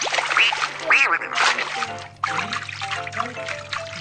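Ducklings quacking in a Babybus children's coloring game, a rapid series of cartoonish quacks with watery splashing and trickling underneath, loud and close.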